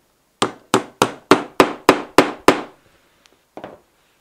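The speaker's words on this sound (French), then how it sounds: "on vient donner un petit coup de marteau sur le clou pour marquer le centre du futur cercle" A hammer strikes a nail into wood in eight sharp, evenly spaced blows, then falls quiet before a couple of faint light taps follow.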